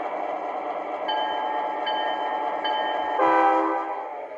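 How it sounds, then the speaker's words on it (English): An O scale model E8 diesel train runs steadily with a constant mechanical hum, then sounds a loud, brief multi-tone horn blast near the end, close and alone. "Now arriving from Boston on track 1, train number 283,"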